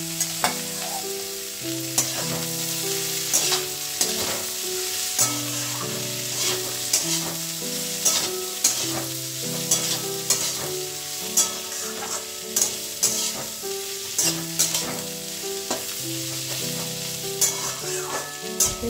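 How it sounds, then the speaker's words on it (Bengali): Mixed vegetables with onions sizzle in a pan while a spatula stirs them, giving repeated scraping knocks over a continuous fry for the whole stretch. "এবারে মিক্স ভেজ সবজি বলুন যাই বলুন একটু ভালো করে কষাতে হবে"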